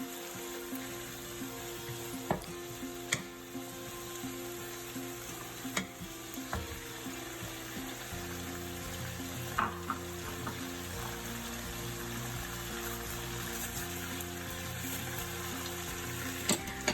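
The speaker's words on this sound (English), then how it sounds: "you're going to stir fry your stem pieces first. Stir fry for about 1 to 2 minutes" Quiet, steady sizzle of water spinach stem pieces stir frying in a pan, with sharp scraping and clacking clicks at irregular intervals as the pieces are tossed, no talk.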